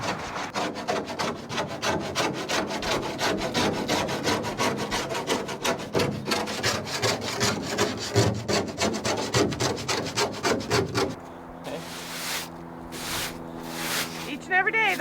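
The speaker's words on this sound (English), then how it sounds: "Each and every morning, Kaden's been out here scraping away" The roof of a Chevy Blazer being scraped by hand: loud, close, rhythmic back-and-forth rasping strokes repeat steadily for about eleven seconds, then give way to quieter sounds with a voice talking.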